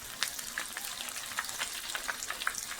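Fish frying in hot oil in a pan, spicy fry, a continuous close crackling sizzle with small popping spatters scattered throughout, no talking.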